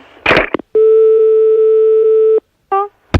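A telephone busy signal during a prank call: a long steady electronic tone holds for about a second and a half, then a short burst of the same tone follows after a gap, with brief noises on either side and no talk.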